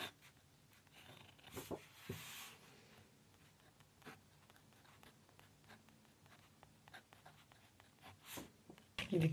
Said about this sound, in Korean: 이번에 제가 만년필도 하나 구매했어요.